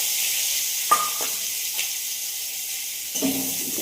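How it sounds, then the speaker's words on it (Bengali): Potatoes frying in hot oil in a wok give a steady, close hissing sizzle, with a few faint clinks and stirring sounds over it, and no voices. "তেলটা দেওয়ার পর আলুটা দিয়ে দিলাম।"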